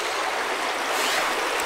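A wilderness creek in the Gila backcountry flows in a steady, close rushing wash, continuous and unbroken with no voices over it.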